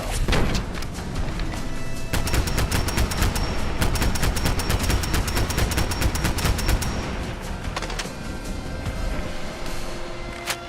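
A combat rifle fires in Fallout London as rapid, continuous gunfire, loud and close, with dense shots packed together over about ten seconds and no talk.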